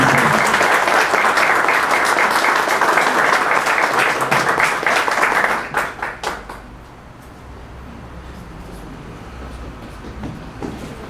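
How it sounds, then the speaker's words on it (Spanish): A seated audience breaks into sustained applause to welcome an engineer at a formal induction presentation, a dense wash of many hands clapping loudly for about five seconds before thinning out and fading into quiet room tone. "Quisiera que recibiéramos con un aplauso al ingeniero José Luis Ortiz García"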